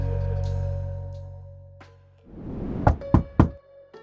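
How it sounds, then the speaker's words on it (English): Three sharp knocks rap on a door in quick succession, loud and close, following a dull rumbling ambience and a low thump. "there was a sudden knock on the door."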